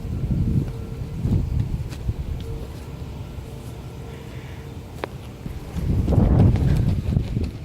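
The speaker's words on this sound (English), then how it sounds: "Sorry for the wind" Gusty wind buffets an outdoor microphone ahead of a storm, rumbling in loud low bursts at the start and again near the end, with a quieter lull between.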